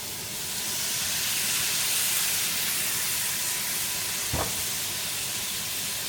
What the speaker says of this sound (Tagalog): Habang hinigisa, lalagyan ko siya ng konting toyo.